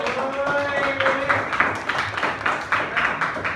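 Classroom applause from students at a school, steady patter of many hands clapping for several seconds, with some voices mixed in underneath.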